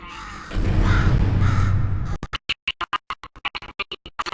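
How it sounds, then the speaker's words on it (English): In the video game Portal 2, a crow caws repeatedly in a quick, sharp series of close, loud calls after a stretch of louder rumbling sound. "Could you, murder this bird for me?"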